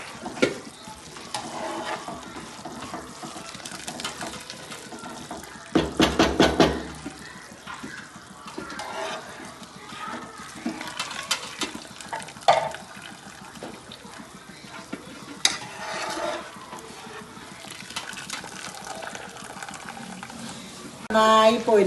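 Cooked mandi rice being drained of water in a kitchen, with intermittent splashing and pouring bursts, one strong gush midway and scattered clatter between, fairly close and moderately loud.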